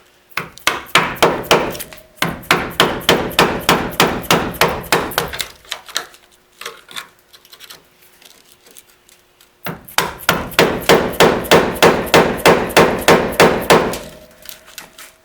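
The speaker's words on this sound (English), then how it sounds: "So let me get a mallet and show you that." A mallet taps a putty knife wedged behind the drip rail of a 1968 Mustang, producing loud, rapid, evenly spaced metallic strikes in two long bursts separated by a quiet pause.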